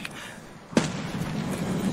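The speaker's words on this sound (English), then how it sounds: "Are those your nades?" Grenade explosion in a shooter video game: a sharp close blast cracks out after a brief lull, followed by a lingering rumbling tail and steady background noise.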